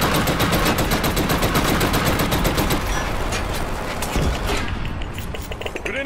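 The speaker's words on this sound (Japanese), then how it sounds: "ここに機関砲を置いたぞ。" Autocannon in a Killzone Shadow Fall online team deathmatch hammering out a loud, rapid stream of rounds for several seconds, then thinning and trailing off at the end.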